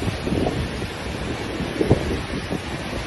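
Sea waves wash continuously onto a beach while wind buffets the microphone, a steady rushing roar with small surges and no voices.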